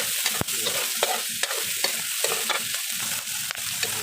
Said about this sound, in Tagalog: Ikutin natin, pag-brownin yung ating pork.